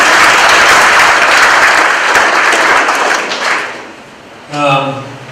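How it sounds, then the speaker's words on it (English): Sustained applause from an audience at a veterans' toast event fills the room for about four seconds, then fades and gives way to someone speaking. "give yourselves a round of applause"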